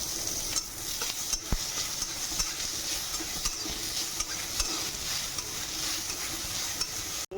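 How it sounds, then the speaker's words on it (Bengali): Carrots with green chilli and cumin fry in a pan, a steady sizzle broken by soft stirring scrapes and occasional light clicks of a utensil. "গাজরটা ভাজা ভাজা হয়েছে"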